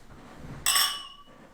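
Drinking glasses clink together in a toast: one bright, ringing chime that fades over about half a second against a quiet room.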